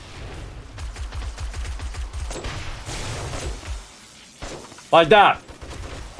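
Automatic turrets firing in the survival game 7 Days to Die, a rapid string of loud shots giving way to a brief crash, with someone talking over it.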